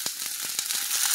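Chicken searing in a hot pan, a steady close hiss of sizzling fat with sharp pops and crackles scattered throughout, with no voices.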